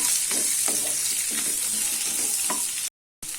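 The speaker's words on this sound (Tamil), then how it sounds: "இந்த வெங்காயம் கொஞ்சம் நல்லா வதக்கிக்கலாம்." Two sliced large onions sautéing in a pan for Chettinad kaara chutney, a continuous close sizzle and crackle with scattered stirring scrapes, cut by a brief dropout near the end.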